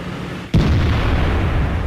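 In the AMX 13 90 tank video game, a tank is hit from behind with a sudden loud, heavy boom. A deep rumbling roar follows and holds at full strength to the end of the clip.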